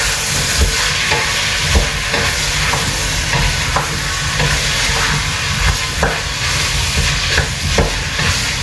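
Peas and potato pulao is stirred in a pan on high flame, a steady sizzle and hiss under repeated scraping strokes of the spoon in a fairly regular rhythm, close and loud with no talking.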